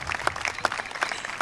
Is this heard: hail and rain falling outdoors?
no